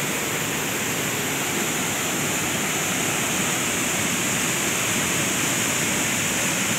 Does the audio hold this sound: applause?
no